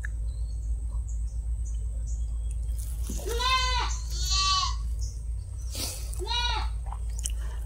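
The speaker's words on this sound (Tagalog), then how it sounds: "Ayan mga kambing." Goats bleat in a few drawn-out, wavering cries, two close together and another after a pause, over a steady low hum with insects chirping faintly in the background.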